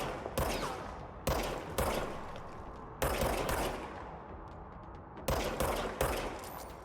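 A gun in the video game Control fires about six separate loud shots or short bursts at irregular intervals, each with a sharp attack and a reverberant tail.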